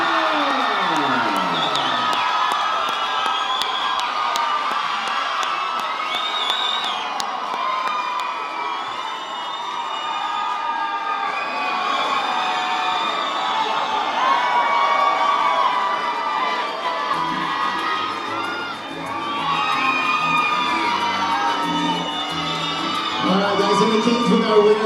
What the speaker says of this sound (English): Listen to that crowd, man.